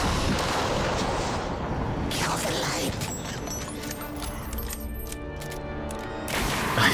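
Dense, sustained gunfire and heavy explosive rumble from the shooter The Darkness 2 fill the stretch, thinning toward the end before a loud burst returns, with no voices over it.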